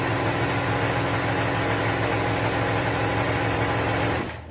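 A serger runs continuously, sewing an elastic band onto a pair of underwear with a loud, dense mechanical drone that holds steady for several seconds before trailing off at the end.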